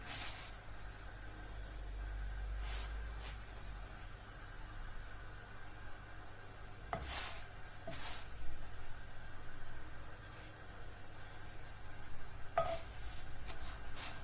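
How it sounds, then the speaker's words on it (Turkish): Soft, steady sizzling of puffy Turkish lavash flatbread frying in a pan, faint and continuous, with a few light scrapes and clicks scattered through. "Her yerini güzel güzel kızartalım. İçi hamur kalmasın."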